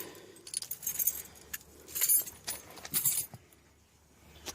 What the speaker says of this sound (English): Fumbling with the keys.